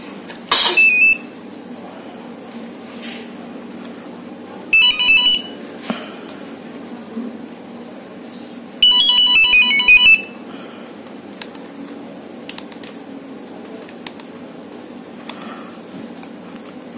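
An old Nokia mobile phone, salvaged from a scrap dealer, sounds three short bursts of its electronic ringtone or alert melody after being switched on, spaced apart over a faint steady background hiss.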